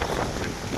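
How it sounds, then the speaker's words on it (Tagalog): Typhoon-strength wind at a school buffets the microphone in a steady, rough roar with no voices. "Kasi sa lakas ng hangin guys, ayan o. Lakas ng hangin."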